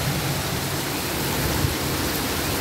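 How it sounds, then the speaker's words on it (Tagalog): A steady, dense hiss of rain falling in the Philippines, even and unbroken throughout, with no distinct drops standing out. "Rain is coming every day"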